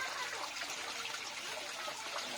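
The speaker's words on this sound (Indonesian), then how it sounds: "suara air mengalir" Water flows steadily from a small artificial waterfall in a mini bird aviary housing finches. It makes a continuous, even splashing trickle at moderate level with no pauses.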